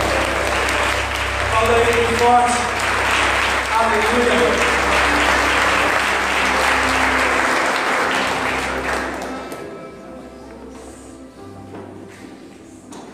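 Congregation applauding during a church sermon, thick loud clapping under a voice and a sustained organ-like tone, fading out toward the end and leaving quieter room sound.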